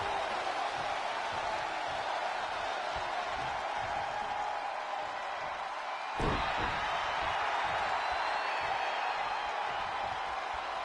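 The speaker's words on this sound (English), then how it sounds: "When you listen to this crowd, they're absolutely electric" Arena crowd noise in the wrestling game WWE 2K20, a loud steady roar of cheering throughout with a single impact slam partway through.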